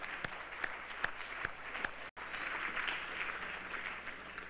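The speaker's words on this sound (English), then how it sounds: "So could we give everybody a round of applause?" Scattered clapping builds into a steady round of applause from a crowd, briefly cutting out for an instant before continuing.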